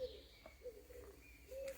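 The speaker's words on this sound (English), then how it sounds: "There's the famous cooing doves." Soft, low cooing of doves, repeated in short calls and heard faintly at a distance against steady outdoor background noise in a small hillside park with roses on a walking route in France.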